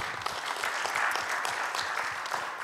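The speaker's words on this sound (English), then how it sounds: "If we could have a clap for them." Audience clapping for panelists at a green economy forum session, a short burst of dense, even applause from a seated crowd, fairly close and steady throughout.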